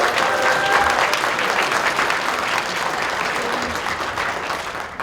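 An audience at an improv Dungeons & Dragons show at C2E2 2025 applauding steadily, a dense wash of clapping that holds for several seconds before tapering slightly.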